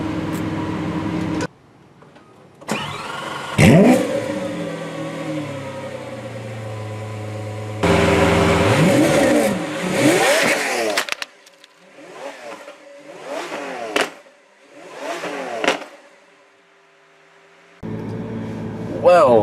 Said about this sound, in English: let's just get a video of the startup and revs